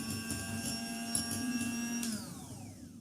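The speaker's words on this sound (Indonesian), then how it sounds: "Di sini aku pakai hand mixer Mito MX200." A Mito MX200 electric hand mixer whips egg whites with sugar, giving a steady high-pitched motor whine with beaters churning in a bowl. It runs close and continuous for about three seconds, and the pitch shifts near the end.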